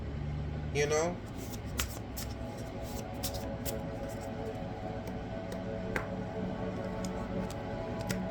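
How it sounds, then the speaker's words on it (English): Tarot cards are shuffled by hand, giving a quick riffle and then a scattered run of light snaps and taps against a quiet room background. A low voice is faintly present. "Shuffle one more time."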